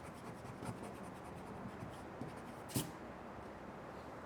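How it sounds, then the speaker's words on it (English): Pencil eraser rubbing over graphite lines on a dragon head drawing, a faint, steady scrubbing with a few soft taps and one brief louder scrape near the end, close and quiet with no talk. "We'll erase these lines."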